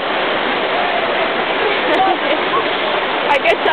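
Water of the Trevi Fountain rushes and splashes in a steady, loud wash that continues without a break from start to finish.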